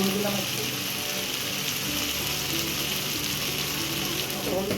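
Cashew nuts frying in a pan, a loud, steady sizzle that holds unbroken from start to finish.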